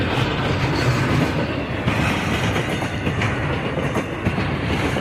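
A BNSF westbound intermodal freight train passes close by on the railroad at Crescent, Pennsylvania, with a loud, continuous rumble of rolling wagons and rhythmic wheel clatter.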